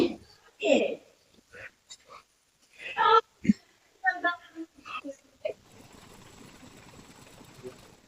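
A sewing machine stitching a kurti starts after a stretch of talking and runs as a steady, close whirring hum through the final few seconds.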